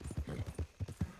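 Horse hooves clip-clop at a steady trot in the Red Dead game, a soft, close, regular run of dull thuds with no voices.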